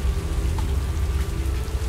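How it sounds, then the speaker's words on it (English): A heavy African downpour in a visual novel video game roars as a steady, dense wash of rain pattering on surfaces, loud and unbroken throughout with no voices. "I forgot how intense African downpours could be."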